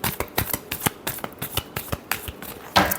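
Tarot cards are shuffled by hand in quick close riffles, a dense run of sharp papery flicks and slaps with no voice.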